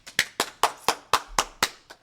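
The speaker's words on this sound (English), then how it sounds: "Mom, clap." A single person claps slowly in a room, about eight crisp, evenly spaced hand claps, close and clear with quiet gaps between them and no talking.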